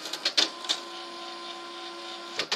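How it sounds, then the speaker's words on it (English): A printer loaded with metallic silver and black ink cartridges runs through its cycle, making a steady mechanical hum with sharp clicks and ticks at the start and end, fairly quiet and close. "I've already loaded up the printer with my metallic silver and black ink cartridges"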